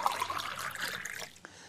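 Condensed milk pours over strawberries being made into strawberry ice cream, heard as a steady close liquid trickle that tapers off near the end, without talk.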